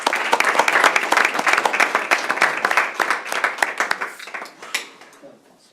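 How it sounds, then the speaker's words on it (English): An audience at a Board of Education meeting claps loudly in a dense round of applause that thins into scattered claps and fades out near the end. "Let's give him another round of applause"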